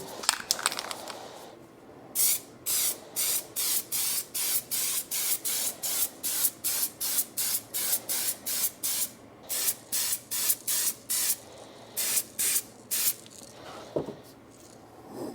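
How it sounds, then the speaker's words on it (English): An aerosol can of textured bumper spray sprays in a long series of short, regular hissing bursts, each about half a second, close by and fairly loud, onto a BMW center console. "textured bumper spray"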